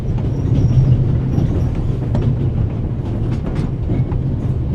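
Train rolling along rails in The Raven Remastered video game, a steady low rumble with faint clattering throughout, continuous and fairly loud, no voices.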